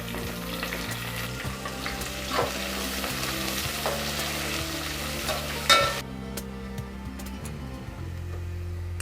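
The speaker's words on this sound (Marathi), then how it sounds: "हिरवी मिरची आणि कांदा. कांदा गोल्डन होईपर्यंत सगळं परतून घ्यायचं आहे." Green chili and onion, with curry leaves, sauté in a pan until golden. A steady, loud sizzle runs throughout with occasional stirring scrapes, and tonal music plays underneath.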